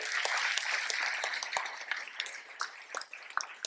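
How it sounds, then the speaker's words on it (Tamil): An audience claps for Sharmili, a burst of many hands loud at first, then thinning into scattered, uneven claps that trail off; no talking. "சர்மிலிக்கு கை தட்டுருங்கப்பா"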